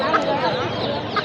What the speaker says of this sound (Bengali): এই সোনালি বিভিন্ন মুরগি আছে, অভাব নাই